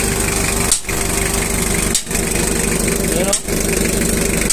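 A used Honda 4DR7-engined motorcycle, said to run without blow-by or smoke, idles steadily and close with a fast, even putter and brief dips, while someone talks over it.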